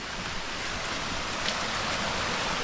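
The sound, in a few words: small stream flowing in a forest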